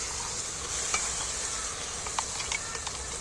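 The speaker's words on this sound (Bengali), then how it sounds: "এর সাথে দিলে তাহলে পোস্তটা ভাজা হবে" Onion and poppy seed paste frying in a pan: a continuous dense sizzle with occasional light scrapes and taps of a spatula, close up and steady, with no talking.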